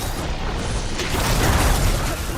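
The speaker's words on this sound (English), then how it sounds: "I think the explosion still does damage." An explosion goes off during combat against machines in the video game Horizon Forbidden West, a dense rumbling burst that swells and lingers under the game's ambient noise.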